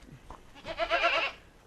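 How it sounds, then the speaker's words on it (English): A Boer goat, the oldest and biggest buck in a farm herd, gives a short, wavering bleat of about a second, close and clear with no talk over it. "Here's Mancha, our oldest and biggest boar goat."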